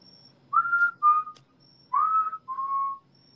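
A person whistles a short tune close by in a quiet room: two rising-then-falling phrases of clear, pure notes, with a brief pause between them.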